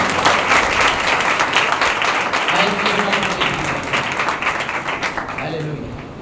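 Loud, continuous applause from a congregation at a Sunday church service rings out, with dense clapping and faint crowd voices that gradually ease toward the end.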